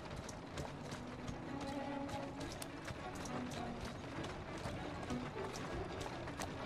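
Steady clip-clop of horse hooves walking at an even pace in the video game Assassin's Creed Syndicate, close and continuous, with a soft voice murmuring faintly underneath.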